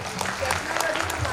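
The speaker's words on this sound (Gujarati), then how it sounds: "ખૂબ તાળીઓ પાડો." An audience at a district award ceremony for bright students gives a short burst of clapping, moderately loud and uneven, with a voice speaking over part of it.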